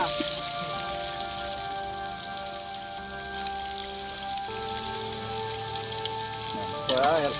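Onions frying in a pan for chicken biryani, a continuous crackling sizzle under a steady tonal hum, with a short warbling electronic tone near the end.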